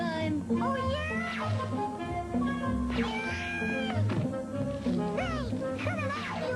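A cartoon cat meows and yowls in a Muppet Babies cartoon, several bright rising calls over busy music, cartoon sound effects and children's voices.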